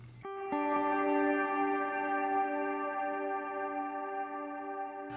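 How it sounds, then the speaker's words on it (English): An ambient guitar pad from a reverb effects pedal swells in with long, sustained, shimmering harmonic tones that hold steady and ring out smoothly. "I just have a pad, or my Blue Fay, which is a pad"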